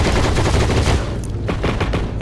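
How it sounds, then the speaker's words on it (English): PPS-43 submachine gun in the game Heroes & Generals, firing a loud continuous automatic burst of rapid shots, then a few separate shots and a short tail afterwards. "It feels very different from most SMGs, and of course sounds different from most SMGs."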